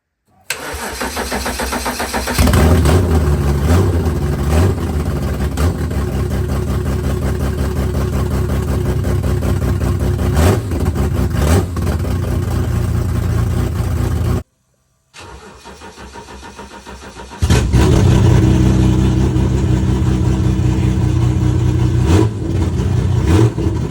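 A BMW S38 engine swapped into an E30 Touring cranks and fires up, then settles into a loud lumpy idle with occasional revs; after a brief cut it starts again and keeps running, close by.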